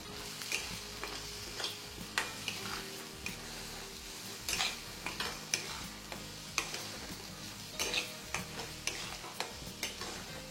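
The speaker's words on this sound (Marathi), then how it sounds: "ह्याच्यात घालणारे आपण लाल तिखट आणि हा घरी केलेला गोडा मसाला आहे. हा पण छान परतून घ्यायचा." Onion-tomato masala is stir-fried over a low flame with red chilli powder and homemade goda masala for soya masala, making a soft continuous sizzle broken by sharp, irregular spatula clicks and scrapes against the pan.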